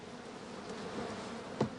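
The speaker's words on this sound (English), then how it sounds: "And then, of course, we have the bees." Honeybees kept by a beekeeper on Dartmoor drone in a low, steady hum for under two seconds, with one brief louder bump near the end.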